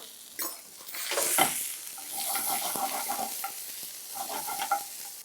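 Ginger, garlic and green chilli fry in a hot pan with a steady, close sizzle and bursts of crackle, under stirring and scraping, running continuously with no voices.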